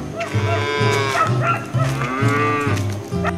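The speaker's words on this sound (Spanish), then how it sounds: "Anda a ver las vacas, Pío Pío." Cows mooing, a close, loud series of overlapping low bellowing calls that rise and fall with no talking.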